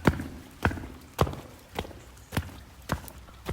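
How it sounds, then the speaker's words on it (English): Six sharp footsteps at an even, unhurried pace, each ringing with a hard reverberant echo, as if walking through a tunnel or hall. "the echoey footsteps"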